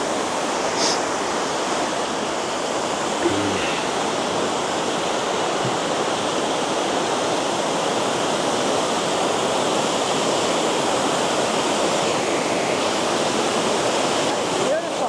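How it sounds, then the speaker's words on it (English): A 22-meter waterfall in flood after heavy rain roars as a steady, loud broadband rush of falling water that holds constant for the whole stretch, with no talk over it. "So I'll spin this round and I can show you the waterfall as we view it."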